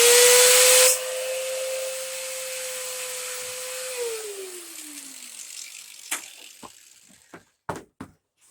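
A cutoff wheel slices through a throttle cable on a Caprice: a brief harsh grinding burst, then a steady high whine as the wheel spins down and fades, followed by a few scattered clicks and knocks.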